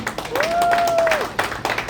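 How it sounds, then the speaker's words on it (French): Audience applause for the Philadelphia delegation at a party general assembly in New York: a steady wash of clapping over about two seconds, with a brief tonal whistle-like sound rising through the middle. "Vraiment, applaudissez pour Philadelphie."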